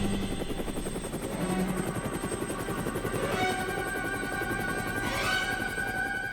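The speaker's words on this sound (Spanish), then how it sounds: "Lo primero que tenemos es la llegada del ministro en helicóptero." A helicopter carrying a government minister arrives on an official visit in Spain's Las Hurdes in 1976. Its steady, loud rotor thump and turbine whine run throughout, with a rising whine near the end.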